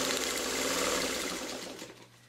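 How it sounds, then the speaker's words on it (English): A sewing machine whirs and buzzes as it stitches a 1/4 inch seam through quilt fabric for a 60 degree string triangle block, running steadily before slowing and winding down near the end. "I'm going to run it under my sewing machine right at 1/4 inch"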